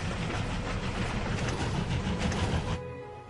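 A steady rumbling train in World of Final Fantasy rattles along with dense mechanical noise, then the roar drops off abruptly near the end, leaving a quieter hum.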